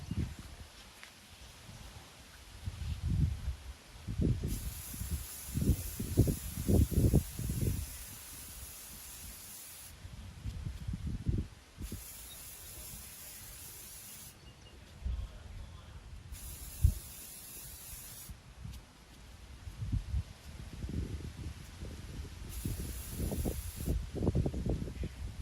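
Water sprays from a hose nozzle in four separate bursts of bright, loud hiss, each lasting a couple of seconds, while quieter handling thumps and rustles fill the gaps between them.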